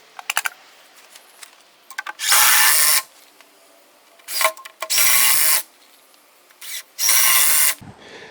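A power drill driving 3.5-inch screws into rough-cut lumber while building a deer hunting shack: three loud, close bursts of whirring about a second long each, with clicks and handling knocks between them.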